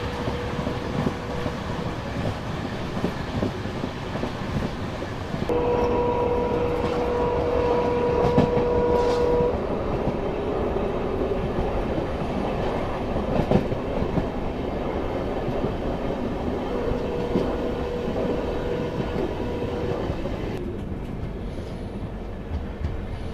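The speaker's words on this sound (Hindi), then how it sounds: "यहाँ पे अपनी वाली ट्रेन जो कि बीकानेर से सियालदह की तरफ जा रही है, उससे मुलाकात हो गई" Bikaner–Sealdah Duronto Express running through the Thar Desert: loud, continuous rolling rumble and clickety-clack of the coaches, with tonal whines and shifts in character as it passes, no voices.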